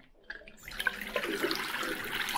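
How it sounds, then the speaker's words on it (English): Water runs steadily from a tap in a hotel bathroom sink, a continuous close hiss and splash that swells in after a brief quiet start and holds at an even level. "Good flowing water."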